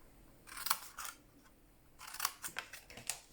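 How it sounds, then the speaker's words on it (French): Scissors snipping through folded paper to make an accordion box, two quick bursts of crisp close cuts, a pair of snips first and then a faster run of four or five, in a quiet room. "on va venir prendre des ciseaux et on va venir couper."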